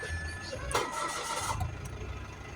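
A Mitsubishi Mirage G4 with a no-pull fault and no PRND gear display cranks briefly and fires, its engine catching and settling into a low, steady idle nearby.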